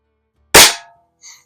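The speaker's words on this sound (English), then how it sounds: "is a gas ram with a plastic stock. But this is such a sweet shooting gun." Gas ram air rifle with a plastic stock fired once, a single sharp close crack that decays over a fraction of a second, followed by a faint brief metallic ring.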